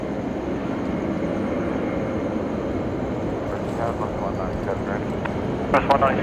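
A Qantas Airbus A330 jet at Brisbane Airport at night on New Year's Eve, a steady, loud, broad engine roar that holds throughout, with a radio voice talking over it near the end.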